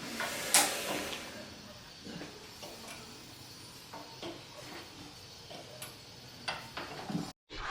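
Compression from a 6hp Stover hit-and-miss engine leaks past a worn copper gasket as one sharp, brief hiss, followed by faint scattered ticks and clicks in a quiet workshop.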